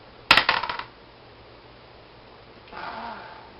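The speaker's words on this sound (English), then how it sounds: "I'm going to roll my dice now" Dice tossed onto a hard surface give a sharp burst of clattering bounces that quickly die away, followed by a quieter, softer rustle a couple of seconds later.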